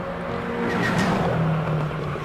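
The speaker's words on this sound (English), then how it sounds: "Whoa, that's very hard on the brakes." A race car brakes hard on the Simola hill climb course, a loud sustained tire squeal and engine roar running continuously over a couple of seconds at close range.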